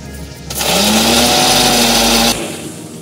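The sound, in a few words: grinder blending mustard yogurt paste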